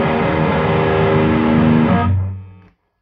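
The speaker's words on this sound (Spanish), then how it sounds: "Y si le pongo el overdrive este," Overdriven electric guitar playing a sustained, distorted chord through combined Fender Deluxe 112 and Fender Twin Reverb amps, loud and steady with no talk, then decaying to silence near the end.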